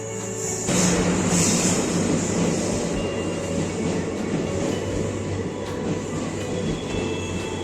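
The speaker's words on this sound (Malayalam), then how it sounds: "അപ്പോൾ ട്രെയിൻ എത്തിയിട്ടുണ്ട്." Train pulling into Payyanur railway station, a continuous loud rumble of rolling wagons with a steady low hum and occasional high squeal, close by throughout with no talk.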